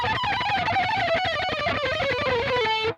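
Electric guitar plays a fast, sloppy run in which the picking and fretting hands are unsynchronized. It is a dense, loud, continuous flurry of notes with a wavering melodic line and no speech over it.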